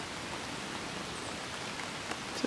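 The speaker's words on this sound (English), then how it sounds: "Even if it is raining out there." Rain falls outside in a soft, even wash of hiss with no clear drops or gaps. Faint and steady throughout, with a small bump near the end.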